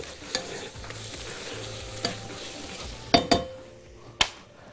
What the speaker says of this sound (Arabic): بعد ما شوحنا المشروم كويس جدا مع الفراخ